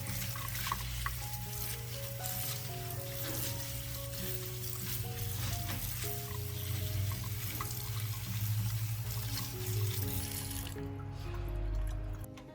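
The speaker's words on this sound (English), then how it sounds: "Rinse under running water to avoid bruising the leaves." Kale leaves being rinsed under running tap water in a kitchen, a steady stream hissing and splashing continuously, with a low hum and faint tonal background music throughout.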